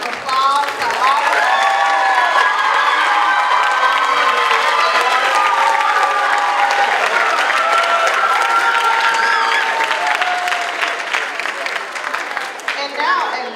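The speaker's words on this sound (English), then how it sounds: "Give a round of applause to all." A crowd at a certified nursing assistant pinning ceremony claps and cheers steadily at full strength with whoops and shouts mixed in, tapering slightly at the close.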